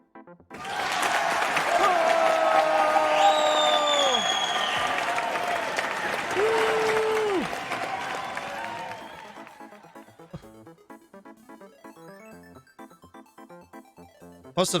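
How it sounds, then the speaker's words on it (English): Audience applause and cheering within a game, a sustained wash of clapping with rising cheers and whistles over it, then fading away as other game sounds take over. "Must have done something exciting to get all them applause."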